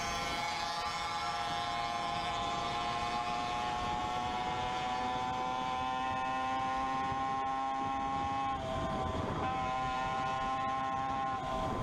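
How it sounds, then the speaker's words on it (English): A motorbike ridden fast at a little over 60 miles per hour, a steady high engine whine with a strong rising pitch that shifts briefly partway through, loud throughout with wind rush. "my bike's pretty much warmed up, so I'm going to take it for a speed rip here"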